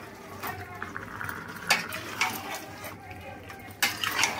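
Chicken pieces with garlic, ginger, black pepper and cumin are stirred in a pot, giving irregular metallic scrapes and clinks of a spoon against the pot over a soft, wet background.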